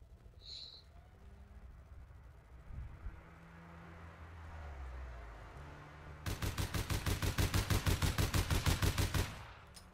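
Rapid automatic gunfire in the online game APB Reloaded, a steady burst of evenly spaced shots lasting several seconds, loud and close, following a quieter stretch of low game ambience.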